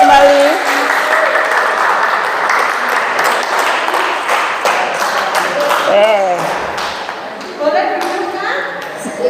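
Audience applause in an Indonesian school dissemination session on positive discipline: dense, steady clapping from a seated group lasting throughout, with voices and chatter mixed in and a few brighter claps standing out near the end.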